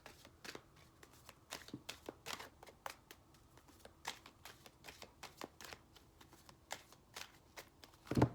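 Numerology guidance cards are shuffled close up in quiet, a soft run of rapid riffling flicks in uneven bursts ending with a louder tap as the deck is squared.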